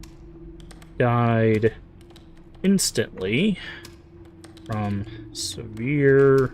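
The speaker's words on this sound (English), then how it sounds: "By the way, the typing sounds you're hearing are in the game." Keyboard typing from the Dead Letter Dept. video game makes soft, rapid clicks that run beneath someone speaking through most of the stretch.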